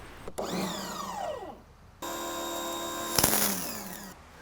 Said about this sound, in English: let's turn the pressure washer on. Put some pressure in it